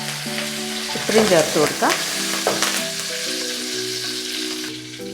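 Cumin, curry leaves and a dried red chilli hit hot oil in a pan, crackling and spitting in sharp bursts before settling into a steady sizzle, with someone briefly speaking and background music playing underneath.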